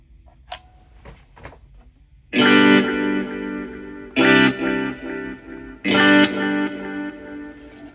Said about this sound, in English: you get that hall reverb sound mixed in with the faux tape echo sound of the delay